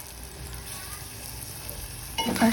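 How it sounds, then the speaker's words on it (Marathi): Frying onions and masala sizzle steadily in a pan, then a louder burst of stirring and scraping near the end as chopped tomato goes in. "आता आपण याच्यामध्ये कापलेला टोमॅटो टाकणार आहे. 1 टमाटर टाकल्यानंतर त्याला मिक्स करून घ्यायचं आहे"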